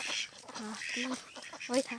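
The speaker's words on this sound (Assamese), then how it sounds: "এইটোৱে হ'ল হাঁহ" Several nasal quacks from ducks at close range, in short bursts with brief pauses, over a busy outdoor background.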